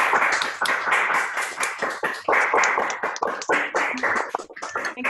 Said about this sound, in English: We'll give a big round of applause.